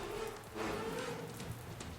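Rain pours in a VRChat roleplay game scene, a brief continuous patter and hiss at even volume with no voices.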